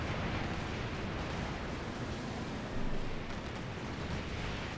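A P-47 rocket strafe air strike in Company of Heroes 2 sounds as a dense, continuous roar of rocket blasts and explosions, fairly faint and steady, with a slight swell near the end and no talk.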